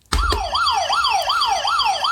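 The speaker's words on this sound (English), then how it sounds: "Paul, the police siren constable." Police siren used as a quiz buzzer sound effect: a loud wailing tone sweeping up and down in rapid repeated cycles after a sharp start, with no voices.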